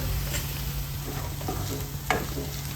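Sliced onions sauté in a pan, a continuous close sizzle with soft stirring scrapes and a brief louder clatter near the end.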